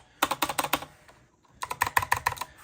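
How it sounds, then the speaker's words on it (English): Switches on a Razer BlackWidow Elite mechanical gaming keyboard clack sharply in two quick bursts of typing, each a rapid run of crisp close keystrokes separated by a brief pause. "I have my Razer BlackWidow mechanical keyboard, gaming keyboard. So you can hear the switches."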